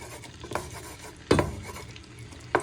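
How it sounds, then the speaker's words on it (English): A wooden spoon breaks up mushrooms frying in oil in a pan: low sizzle with a few distinct scraping knocks, one louder mid-way and another near the end, heard up close with no talking. "So you're just breaking them up with the back of your wooden spoon so they can coat in the oil and go nice and golden."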